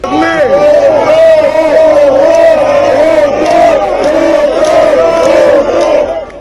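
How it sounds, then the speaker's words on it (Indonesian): A crowd of villagers massed outside a padepokan entrance shouts loudly and in unison, a sustained chanting roar of many voices that rises and falls in waves for several seconds before trailing off at the end. "terlihat kerumunan massa di depan pintu masuk Padepokan yang berteriak lantang agar Padepokan dibubarkan"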